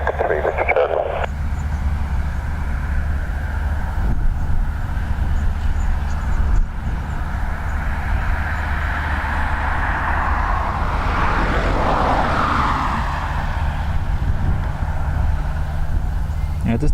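An Aer Lingus airliner taxis at Dublin Airport's north runway, a steady distant jet whine and rumble held for a long stretch, with a rising swell midway and faint radio chatter mixed in.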